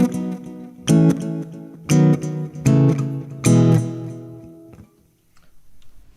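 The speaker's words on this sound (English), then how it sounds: "it's a really nice kind of organic sounding delay" Acoustic instrument through the delay effect of a Udo Roesner Da Capo 75 acoustic amp: plucked notes and chords in a steady rhythm with echoing repeats trailing off into a fading tail, clear and close.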